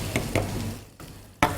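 Onions are stirred into a sizzling mixture in a pan while cooking iftar dishes, with a soft continuous fry and a few scraping spoon strokes, close and moderately quiet.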